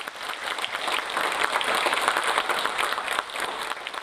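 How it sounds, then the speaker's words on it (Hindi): A live audience claps in sustained applause at a talk in Kanpur, dense and even for the whole stretch at moderate distance, with no speech over it. "और आप अगर तालियां बजा दें तो बड़ा अच्छा लगेगा।"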